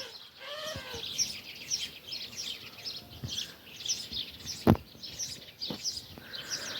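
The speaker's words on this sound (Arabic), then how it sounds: "سمعوا الطيور" Birds chirp and sing in a mountain countryside morning, with scattered short calls at moderate distance over quiet open air and a few louder nearby bursts.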